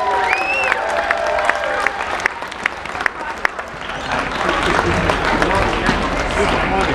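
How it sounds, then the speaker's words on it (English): A crowd at a whistling world record event applauds and cheers, sustained clapping with scattered whoops and shouts rising toward the end, close and loud. "So give yourselves a round of applause again."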